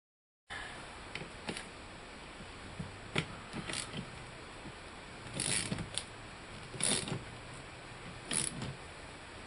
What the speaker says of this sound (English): to pull this gear off, I got a cheap Harbor Freight gear puller.